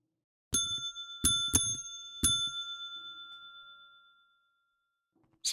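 A stream alert plays four bright bell dings, two close together, each ringing out with a long shimmering decay into silence, loud and alone.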